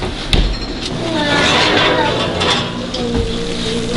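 Pizza sizzling in a pan on a stovetop, a steady broadband hiss of frying with a few scraping and clinking touches, close and fairly loud throughout.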